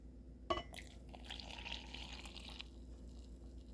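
Hot water pours into a cup for hazelnut hot chocolate, a soft close trickle that begins with a small clink and runs for about two seconds before trailing off, with no talking.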